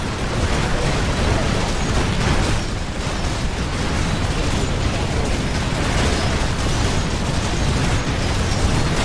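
Airstrike explosions in the video game Infested Planet form a dense, continuous roar of booms and bursts, loud and unbroken throughout.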